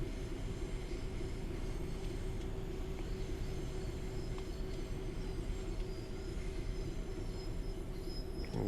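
Train rolling alongside in the Train Sim World 3 game on the London Commuter route, a steady, loud, continuous rumble of wheels on rails with faint high squeals, running throughout without talk.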